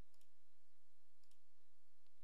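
Computer mouse clicking while texturing a dollar bill model in Blender 2.8, a few sharp isolated clicks over quiet room hiss.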